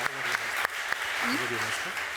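An audience applauds a writer taking the stage at a literary tribute event, sustained hand claps filling the hall beneath faint voices close to the microphone.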